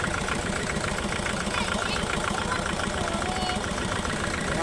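A Hyundai D4BF diesel engine in a vehicle with a newly replaced automatic transmission idles roughly, with a dense, steady clatter and knock heard up close and no break in the sound.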